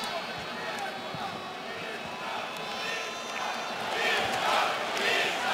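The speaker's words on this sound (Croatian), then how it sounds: "Ovo je Klitschkovih navijača" A large crowd roars and cheers steadily, swelling louder toward the end, with a faint voice under the noise.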